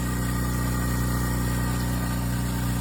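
A Limodot quiet air compressor with a 5-gallon steel tank and an installed muffler runs steadily while charging its tank, giving a constant, even mechanical hum with no voices.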